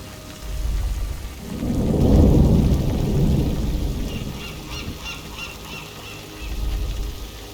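A thunderstorm with rain in Warcraft III Reforged, a deep rolling thunder rumble that swells and fades over steady rain, with a second lower rumble near the end and no speech.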